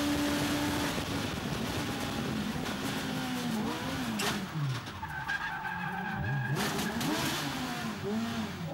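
Race cars at the Magny-Cours circuit roar past with rising and falling engine pitch and tyre skids, loud and continuous with no talk.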